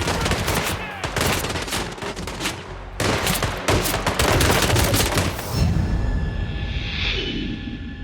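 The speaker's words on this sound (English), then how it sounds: "Why are you shooting me?" Rapid gunfire in Hitman World of Assassination: dense, loud volleys of shots through the first half, then a whooshing rumble that fades out with a lingering ringing tone.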